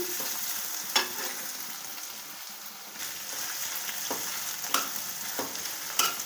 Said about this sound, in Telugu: ఇవి కొంచెం దోరగా వేపుకోవాలి. ఉల్లిపాయ పచ్చివాసన పోయేదాకా వేపుకున్నామండి.